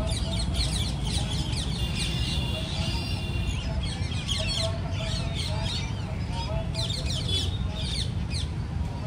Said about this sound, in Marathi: झाडावर पोपट बसलेत, मस्त ओरडतायत.